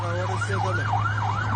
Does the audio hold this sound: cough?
no